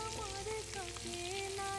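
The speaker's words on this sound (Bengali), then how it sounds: "আর 3-4 মিনিট ফ্রাই হলেই আমার হয়ে যাবে কাঁকড়া ফ্রাই" Crabs frying in a pan, giving off a continuous close sizzle and crackle of hot oil that stays even and unbroken throughout, with no voices.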